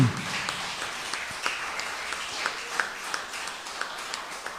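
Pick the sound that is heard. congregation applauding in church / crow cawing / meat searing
congregation applauding in church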